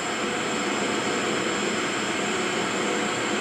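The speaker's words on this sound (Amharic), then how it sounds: "ማይክሮሶፍት ፍላይት ሲሙሌተር ላይ ያበረርኩ ይገኛለሁ።" A jet airplane engine in Microsoft Flight Simulator drones as a steady, broadband whine and rush, constant in level and unbroken for the whole stretch, with no voices.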